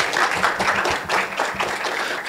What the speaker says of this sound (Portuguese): Batam palmas e sejam bem felizes com isso.